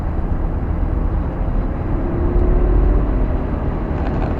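A BMW F10 550i with a twin-turbo V8, in Sport Plus mode with traction control off, accelerates at full throttle: a loud, continuous, close-up low roar with a faint rising whine.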